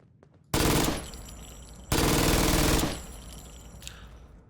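Two long fully automatic bursts from a converted heavy machine gun firing 5mm rounds in Fallout London, each a loud, rapid stream of shots lasting over a second, separated by a short gap and followed by fading echo.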